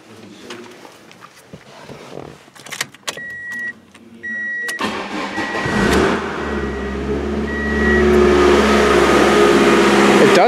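A low-mileage car's engine cranks on a booster pack with rattly clicks and whirring, then catches and starts, settling into a loud steady idle nearby with a slight exhaust leak.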